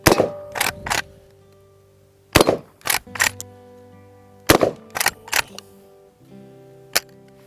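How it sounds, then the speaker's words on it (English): Blasts from a Century Arms PW87 lever-action shotgun firing at bottles outdoors, sharp loud reports in quick bursts of two or three, then a pause and a single final shot. "All right, let's blow up some bottles here."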